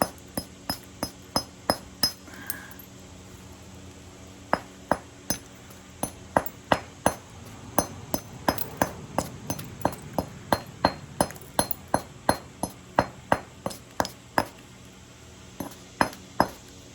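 A hammerstone pecks on a solid piece of rock being knapped into a Danish flint dagger preform, giving a long series of sharp, ringing clicks in irregular rhythm, close and distinct against a quiet background.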